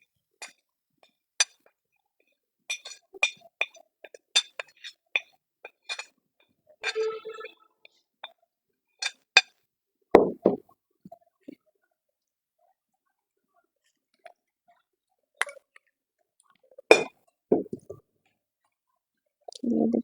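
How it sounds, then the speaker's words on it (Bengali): Spices going one at a time into a pot of mutton bhuna, marked by sparse, sharp clinks and clicks of a spoon against containers, with a few short sizzling bursts in the middle and at the end. "এখন আমি সব মশলা একে একে দিয়ে দিচ্ছি"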